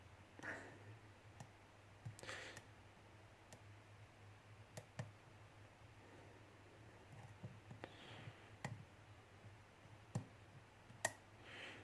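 Pins inside a Schlage Everest lock click while it is raked, faint sparse ticks scattered irregularly through a quiet background, a few slightly louder snaps near the end.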